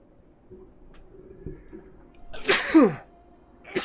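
A single loud, close sneeze bursts out after a quiet stretch of faint background noise, followed by a brief breathy sound.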